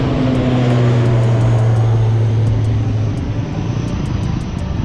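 An airplane bound for Australia passes overhead with a loud, steady engine drone that holds throughout and eases slightly toward the end, with no talking.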